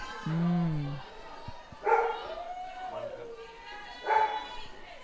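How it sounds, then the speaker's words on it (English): Excited dogs at a softball ballpark before the first game of a women's club championship in New Zealand give a few yips and barks. Voices are heard between the sounds, and the barks come in separate short bursts. "Ballpark doggies all excited for the first game."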